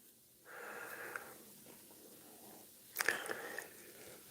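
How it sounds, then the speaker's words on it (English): A single person yawns close up during a livestream: a drawn-out breathy exhale, a pause, then a sharper, louder breathy burst near the end against a quiet background. "Excuse me whilst I yawn in your eyes."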